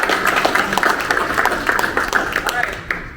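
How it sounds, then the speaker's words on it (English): A round of applause for a departing member at a club meeting, with light, scattered clapping from a small room mixed with voices. "Can we give one more round of applause to Randy before he leaves?"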